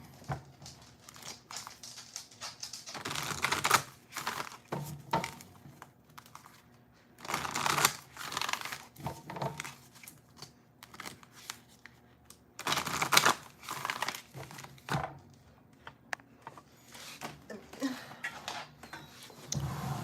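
Soft, intermittent shuffling and riffling of tarot cards in bursts, close and fairly quiet, with brief pauses between rounds.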